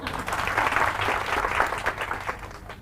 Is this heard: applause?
yes